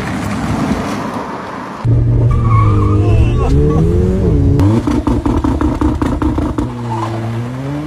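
A Tesla drifting, its tires squealing and skidding in long wavering tones over the steady hum of the car, loud and close, with a voice briefly heard alongside.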